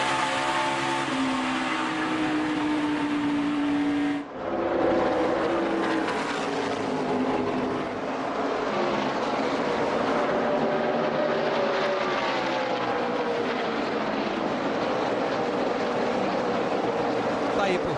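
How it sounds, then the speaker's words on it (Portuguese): Race car engines roar through a NASCAR Nationwide Series race at Dover in 2014, loud and continuous, with pitch shifting as cars pass and change speed, under faint commentary. "O Victor Fischer pede para a gente abrir uma janela da transmissão para o som dos motores."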